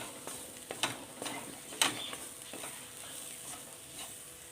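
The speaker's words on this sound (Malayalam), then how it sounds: "ഈ പൊടികളുടെയൊക്കെ പച്ചച്ചവ മാറി ഒരു നന്നായിട്ട് മൂത്ത് വരണം" Spice powders such as coriander powder roasting in a pan for a curry, with a low continuous sizzle and a few sharp scrapes of the stirring spoon, fairly quiet and close, no speech.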